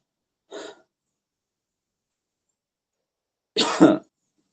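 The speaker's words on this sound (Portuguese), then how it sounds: "tossi pela primeira vez." Two isolated coughs in silence: a brief soft one, then a louder, harsher cough a few seconds later, close by.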